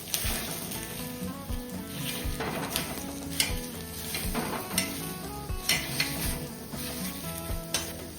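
Onions roasting in a pan for a village-style chicken curry crackle with a continuous sizzle, broken by occasional stirring scrapes and utensil clinks against the pan, with faint music underneath.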